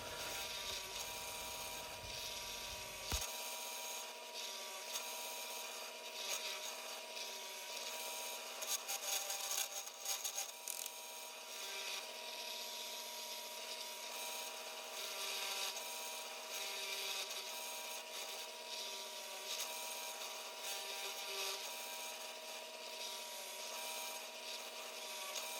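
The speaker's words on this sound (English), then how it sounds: "with a mallet and chisel, but the Forstner bit does take the majority of that trouble out" A 3/8 Forstner bit boring mortise holes in wood for a stool hums and rubs steadily for about 25 seconds. The drilling noise stays fairly constant, with a few scraping, louder bursts partway through.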